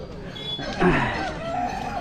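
A rooster crows once, a brief loud call rising over the busy murmur of a large West Bengal livestock and poultry market, with people talking in the background.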